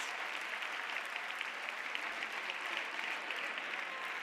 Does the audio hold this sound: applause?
yes